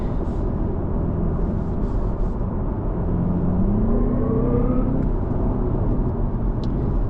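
A BMW G60 530e plug-in hybrid accelerates on the road, a steady engine hum and road rumble with a faint rising whine as speed builds, loud and continuous with no talk.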